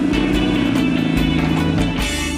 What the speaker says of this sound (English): Tom still drives a first-generation Miata, the one with the hideaway headlights